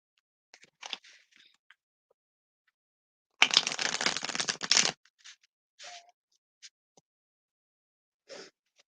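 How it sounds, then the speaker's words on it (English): Tarot cards being shuffled by hand, a dense riffling burst lasting about a second and a half amid scattered soft taps and handling noises, close and fairly quiet, with no talk. "we cleanse our cards because I've been sitting here shuffling them"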